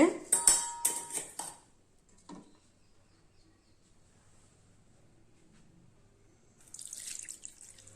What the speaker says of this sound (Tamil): இப்போ நம்ம இதை ஒரு வடிதட்டி வச்சு வடிச்சுக்கலாங்க